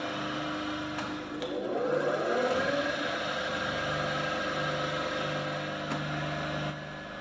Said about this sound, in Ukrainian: Запускаємо асинхронний двигун.